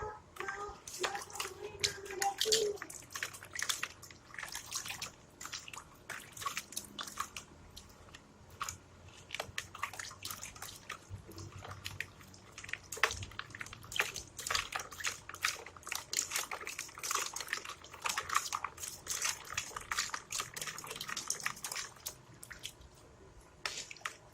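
AB mix hydroponic nutrient concentrates, a red A part and a green B part, being stirred into water, giving a steady run of close, irregular clinks, scrapes and small sloshes with no talking.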